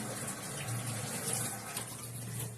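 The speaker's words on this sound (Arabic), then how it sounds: "عليهم شويه ميه" Water poured from a vessel onto garlic, chili pepper and vinegar while preparing Egyptian koshari, a steady close running and splashing sound with no talk.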